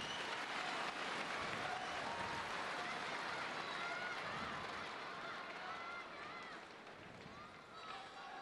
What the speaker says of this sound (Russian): Заслужил, конечно, аплодисменты.